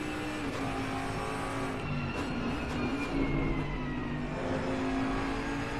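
A race car engine in a racing video game climbs a hill at the Nurburgring, its tone whining and rising through the gears. The sound is smooth and continuous at moderate loudness, with no voice over it.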